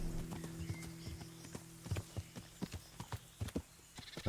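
Horse hooves clip-clop steadily on the ground in the medieval game Kingdom Come: Deliverance, a regular rhythm of close, crisp hoofbeats over a low ambient hum, with a neigh near the end.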